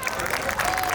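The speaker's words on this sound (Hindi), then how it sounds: "तो एक बार उन सभी के लिए तालियां।" Audience applause at a school annual function, dense continuous clapping from a crowd filling the short moment at fairly loud level.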